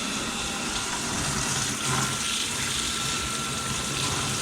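Water runs steadily from a tap with weak hot water turned on full, a constant hissing gush with no pauses, close and fairly loud.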